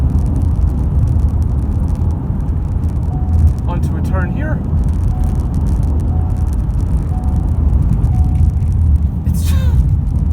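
A 2017 Ford S-Max Titanium TDCi drives fast along a back road, with a constant loud cabin rumble and road whir under a voice as he speaks throughout.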